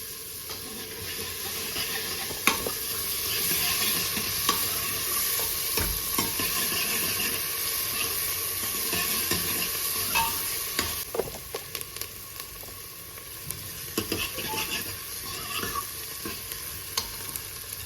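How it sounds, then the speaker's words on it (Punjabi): Onion frying in a pan for a vegetable dish, a continuous bright sizzle close by with frequent stirring clatters and scrapes of a utensil throughout, no talk. "ਇੱਕ ਮਿੰਟ ਵਾਸਤੇ ਆਪਾਂ ਪਿਆਜ਼ ਨੂੰ ਭੁੰਨਾਂਗੇ"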